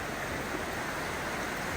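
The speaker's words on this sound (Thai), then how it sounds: "ฟังเสียงน้ำไหลกัน" A flowing stream beside lodging in Bo Kluea, Nan, Thailand, a soft, steady wash of running water that stays even and fairly quiet through the short stretch.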